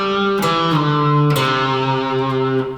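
Electric guitar playing a song's solo phrase with a finger slide: sustained, slightly overdriven notes with bright pick attacks, a gliding pitch change and a long held note, loud and unaccompanied.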